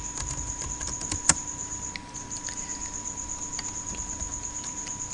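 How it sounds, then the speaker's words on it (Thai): Keys clatter steadily on a computer keyboard while a PIC microcontroller program is written in CCS C, with light irregular taps, one sharper stroke near the start, and a constant electronic whine behind them. "พิมพ์คำว่า hello"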